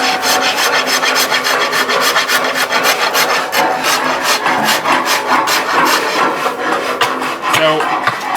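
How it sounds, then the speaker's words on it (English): A wooden bow hand guard is being whittled and rasped by hand, with continuous rapid scraping strokes of steady rhythm, loud and close throughout, and no talking. "we're just going to keep whittling away at it"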